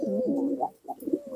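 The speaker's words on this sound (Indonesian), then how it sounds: "Nah, ini merpatinya." A pigeon with drooping wings coos close up in its loft, a low rolling coo followed by a short pause and a few softer notes.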